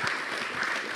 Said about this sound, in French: On peut vous applaudir avec chaleur.